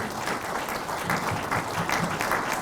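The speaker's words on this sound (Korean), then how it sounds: "우리 박수 한번 하나님께 돌립시다." A church congregation applauds during an opening worship service at an autumn retreat, a dense, even wash of clapping from a large group filling the whole stretch.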